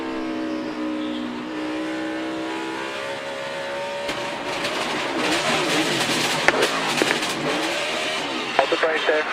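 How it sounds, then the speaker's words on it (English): Onboard a NASCAR race car at Pocono during the 2015 Camping World 500, a loud engine holds a steady high rev, then erupts into a harsh, broadband crash of impacts and scraping as the car hits the outside wall. "You heard the engine rev up."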